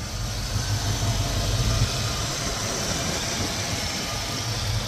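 A 1986 Ford Mustang Cobra GT with its 5.0 V8 idling, a steady low mellow rumble held evenly throughout with no other sounds.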